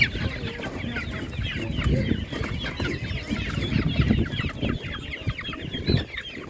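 Poultry at a market, chickens and goslings, a dense close chorus of clucking and peeping from many birds at once, continuous with no voices standing out.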